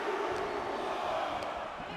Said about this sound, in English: The crowd is counting it down.